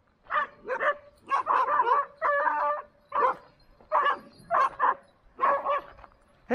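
Standard poodles in Sun Valley, Idaho bark repeatedly at close range, a steady run of loud, rhythmic barks in quick pairs and clusters with short pauses between them.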